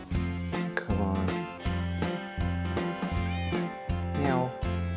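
A cat in the Minecraft video game meows over and over, about eight loud, closely spaced, tonal meows in a steady run.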